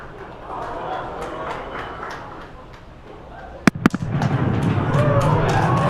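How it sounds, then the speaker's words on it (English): Sonic booms from Falcon Heavy side boosters returning to landing zones ring out as two sharp, loud cracks, followed by rising crowd cheering and a commentator talking. "There we just heard sonic booms."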